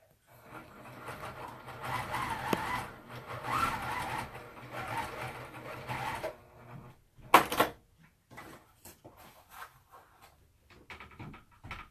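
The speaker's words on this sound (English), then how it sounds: "I'm just going to finish sewing the cross hatching" A sewing machine stitches quilted cross-hatching on a fabric oven mitt, a buzzing motor run in bursts of several seconds, then a sharp clunk and scattered short handling knocks and clicks.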